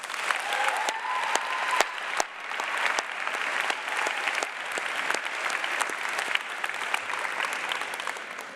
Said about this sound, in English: Please join me in giving Ms. Kalp and Mr. Ross a well-deserved round of applause